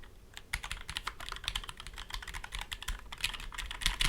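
Quick, uneven keystrokes on a lubed mechanical keyboard with GMK Calm Depths keycaps, clacking close and clear at a steady typing pace with no voices.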